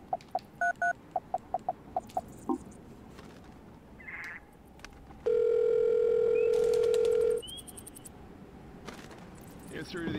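In the video game Silent Hill Shattered Memories, a phone dials a series of short keypad tones, then a steady ringback tone holds for about two seconds before a line connects, amid faint background noise.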